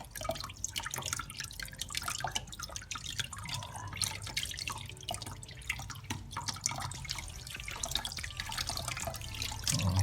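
Tap water running steadily into a sink while conch is washed, a continuous splashing stream with scattered drips, close and moderately loud, with no talking.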